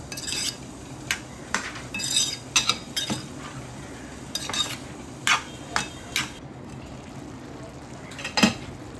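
Chicken kheema stirred in a pan, irregular metallic scrapes and clinks of a spoon against the cookware, some closely spaced, over a faint background hiss.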